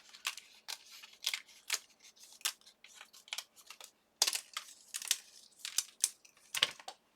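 Paper being cut with scissors during a craft project making altered guest checks, a series of crisp, close snips and slices in an irregular rhythm, with no talking.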